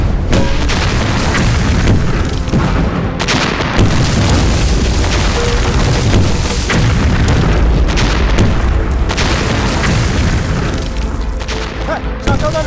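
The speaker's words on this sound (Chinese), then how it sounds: "日本人炮兵连队开炮。" Artillery guns fire and shells explode in a war film set during the Japanese invasion, with a Japanese artillery regiment opening fire; dense, loud, continuous booms and blasts roll on without pause, some voices mixed beneath.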